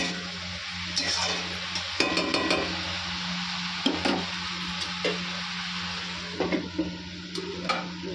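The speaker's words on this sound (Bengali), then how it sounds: "সবজি দিয়ে দিয়েছি কষানো হচ্ছে" Vegetables (pumpkin greens, potato and taro) sizzle in a pan while a utensil scrapes and clinks against it at irregular intervals, close up, with a low steady hum beneath.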